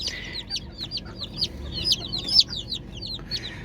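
A Gurk hen clucking as a newly hatched chick with an injured leg is tucked beneath her, a rapid chatter of short high clucks and peeps, close and moderately loud.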